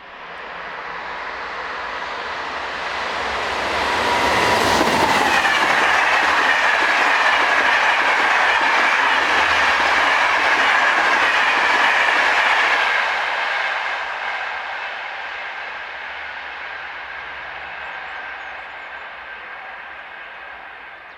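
Northbound passenger train number 26002, on a European line, swells from a distant rumble into a loud, sustained rush and clatter of wheels on rails, then slowly fades away as it passes alone.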